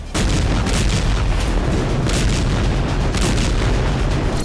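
Shelling in Gaza sends a sustained, loud roar of blast energy with rumbling booms and crackling bursts layered over one another, continuous for several seconds and very close.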